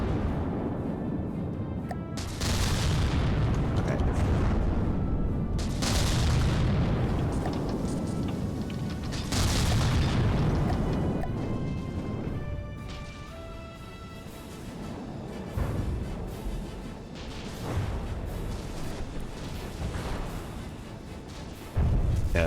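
Torpedo hits and explosions in the naval combat game From the Depths, with small intercept torpedoes in play: a continuous stretch of heavy, rumbling booms and blasts, several strong detonations swelling out of dense low roaring, loud and close.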